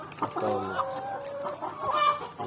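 Chickens on a poultry farm, some showing signs of cholera, cluck repeatedly nearby, several birds overlapping in a busy, uneven stream of calls with no talking.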